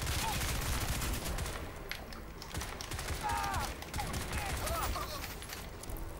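Rapid gunfire in the video game Crysis 2, repeated sharp shots in quick bursts with mechanical clatter, while someone talks over it.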